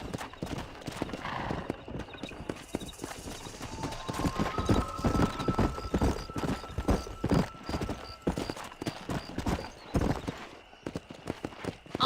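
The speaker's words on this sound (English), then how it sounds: "All right, I'll show you how we ride around these parts." Horse hooves clip-clopping at a steady galloping rhythm in the Red Dead Redemption video game, close and continuous for the whole stretch, with a brief whinny and faint game ambience beneath.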